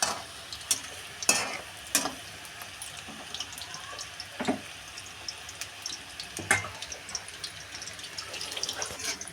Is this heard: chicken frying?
yes